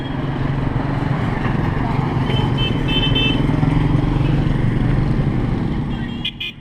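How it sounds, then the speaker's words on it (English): Steady, close engine drone of 150cc motorcycles passing on a road in the Dominican Republic, continuous throughout with brief horn toots and faint voices underneath. "The most popular mode of transport here is a 150cc motorcycle."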